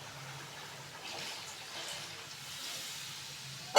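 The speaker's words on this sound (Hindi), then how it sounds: "तो इसमें हम डाल देंगे पानी।" Water pours and splashes steadily into a cooking pot of aloo chicken curry with spices, a soft continuous gush with light hiss, close and fairly quiet.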